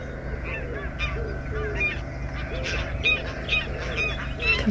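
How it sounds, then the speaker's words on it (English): Geese honking repeatedly in a noisy group, steady and fairly close, with no talking. "Complete with geese flapping."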